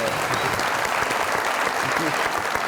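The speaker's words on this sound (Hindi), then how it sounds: "बहुत सारी तालियां इनके लिए" A studio audience at a Pakistani comedy show applauds steadily, a dense wash of clapping that stays loud and even from start to finish, with no voices over it.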